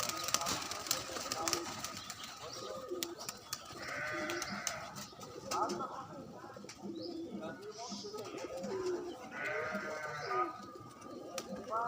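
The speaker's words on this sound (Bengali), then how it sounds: "এই হচ্ছে পায়রা, সব রাজশাহী গিরিবাজ।" Rajshahi Giribaz pigeons cooing and fluttering in a loft, a mix of soft repeated coos and bleating-like calls, with someone talking intermittently over them.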